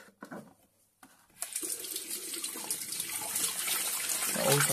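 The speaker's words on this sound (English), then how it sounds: "I'm just getting my hands washed" Hands washed under a running tap, with a few soft knocks and handling sounds first, then a steady splashing gush of water that builds slightly, close and fairly quiet.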